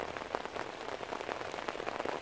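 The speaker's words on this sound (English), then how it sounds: "Now it's raining." Rain falls on a fishing boat with a bimini top up, a dense, fairly faint patter of drops that runs steadily with no voices.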